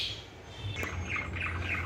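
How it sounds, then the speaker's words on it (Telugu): Colourful pet lovebirds chirp indoors at home while a kitchen is in use, a few short high tweets and squawks, fairly faint, over a low background hum with no talking. "సో మా ఇంట్లో లవ్ బర్డ్స్"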